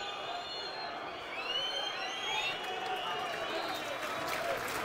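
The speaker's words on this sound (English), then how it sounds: "Crowd whistling for the final whistle." Football crowd at a Millwall versus West Bromwich Albion match whistles shrilly for the final whistle, sustained overlapping whistles over a distant roar of voices, moderately loud and continuous.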